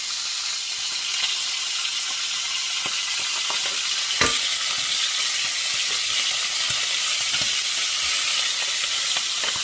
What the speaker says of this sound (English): ASMR sizzle.